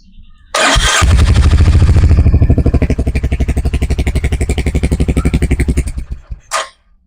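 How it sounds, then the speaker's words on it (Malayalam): A motorcycle fitted with a hidden magnetic security switch cranks briefly, then fires and idles loudly up close with a rapid, even chugging beat before shutting off near the end. "ഇനി നമുക്ക് ഈ ബൈക്ക് ഒന്ന് സ്റ്റാർട്ട് ചെയ്ത് നോക്കാം"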